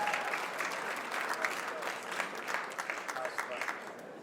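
Dinner audience at a charity fundraising gala bursts into sustained applause, a dense wash of many hands clapping that stays strong for about four seconds, slightly distant in the hall.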